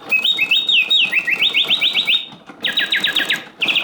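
Antique Bontems singing bird cage automaton producing mechanical birdsong: rapid trilling whistles and chirping phrases repeating loudly and continuously, with brief pauses between bursts.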